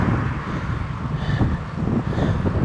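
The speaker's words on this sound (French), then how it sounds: "c'est là où je suis content qu'il y ait du vent aujourd'hui" Steady wind rushing across the microphone with a low, blustery rumble, continuous and fairly loud throughout, on a hilly bike ride in Auvergne.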